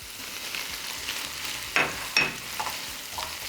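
Tomato paste and spices are stirred into a cooking pot with ground meat and potatoes, a soft sizzle broken by a couple of sharp utensil scrapes and clinks against the pot, close and fairly quiet.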